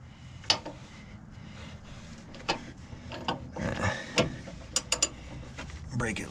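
A wrench working loose a bolt on a Ford Expedition/F150 steering stabilizer gives scattered metallic clicks, ratcheting ticks and clanks, close and fairly quiet against faint background noise.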